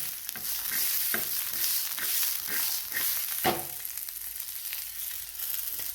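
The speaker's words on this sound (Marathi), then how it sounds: "मिरचीलाच आपल्याला पलटायचं आहे." Green chillies roast and sizzle in a pan with peas, with a steady frying hiss broken by scraping and clinking as the spatula flips them, and one louder knock near the middle.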